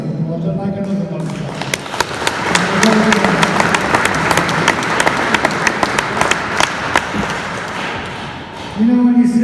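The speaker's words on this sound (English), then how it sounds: "you've given him a round of applause. I'd like another one." Applause from a dinner audience for an entertainer, a dense crackle of many hands clapping steadily for several seconds, with voices murmuring underneath.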